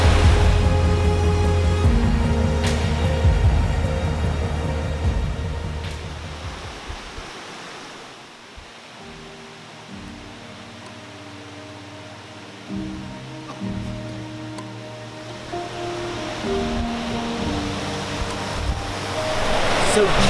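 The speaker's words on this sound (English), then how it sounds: "So just after Mini Falls, the rapids." River rapids below Mini Falls on the Raven Cliff Falls trail in Georgia rush as a loud, constant roar of broadband water noise, dipping briefly midway as wind and handling noise pass nearby.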